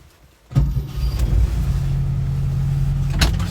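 A 1971 Saab 95 station wagon engine cold starts after a brief crank, catching abruptly and settling into a steady, loud, throbbing idle close by, with no talk over it.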